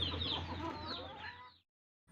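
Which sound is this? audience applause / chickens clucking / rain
chickens clucking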